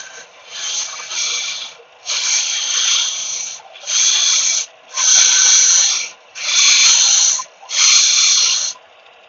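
An old bolt is sanded by hand in six or seven long rasping strokes, each a steady hiss lasting about a second with short gaps between, close and loud.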